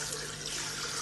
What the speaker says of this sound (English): Add sufficient water